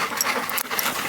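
Dogs pant quickly and breathily up close after a walk, a continuous rough huffing with no talk over it.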